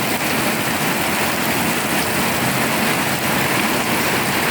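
Heavy rain pours during a windy, stormy spell, a loud unbroken hiss of water that holds steady throughout with no pauses.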